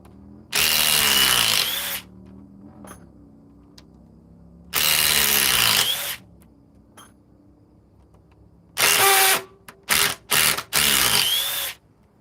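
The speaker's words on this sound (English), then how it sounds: "Oh, that's stripped. This DeWalt has been known to strip screws." A DeWalt drill works on a stripped screw in several loud, close bursts: two long whirs, then a run of short stuttering pulses with chattering, separated by quiet gaps.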